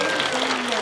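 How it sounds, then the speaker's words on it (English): Audience applause at a panel event, a brief dense burst of clapping heard alone, steady and fairly loud throughout. "Give them a round of applause."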